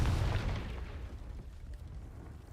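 A Confringo spell explodes in the Hogwarts Legacy video game: a deep, booming blast that hits hard at the start and rumbles away over the next couple of seconds.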